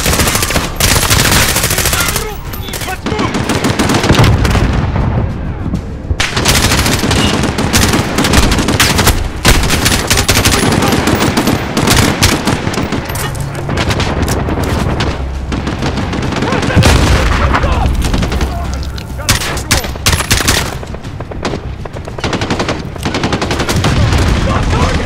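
Sustained machine gun fire rattles through a cutscene of the Modern Warfare 2019 video game, with loud, nearly continuous bursts, heavy booms and explosions, and soldiers shouting over the battle.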